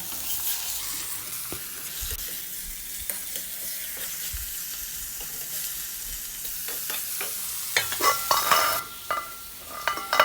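Steady sizzling of fish frying in hot coconut oil with intermittent stirring clicks, growing busier and louder toward the end.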